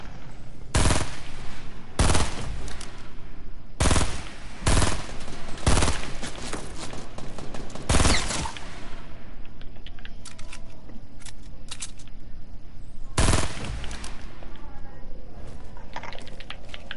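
Gunfire in Fortnite Battle Royale: several loud, sharp bursts of shots and single blasts, spaced irregularly across the clip, with quieter game sounds and faint clatter between them.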